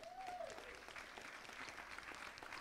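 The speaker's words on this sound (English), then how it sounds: "let's give a giant round of applause to Lindsay Voss" Round of applause at a women's real estate panel session, steady dense clapping from the audience, fairly faint and distant, continuing throughout with a brief tone near the start.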